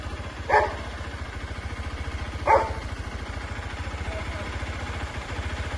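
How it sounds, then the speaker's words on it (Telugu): A golden retriever barks twice, a few seconds apart, over a steady low engine-like hum. "కుక్కేమో అసలు బొగలుతా ఉంది"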